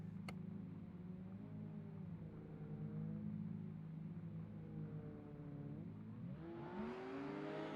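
A Nissan S15 and a Ferrari 599 drift car idle at the start of a drift competition run at Bikernieki, engines burbling and wavering in pitch before a sudden rising rev as they launch near the end.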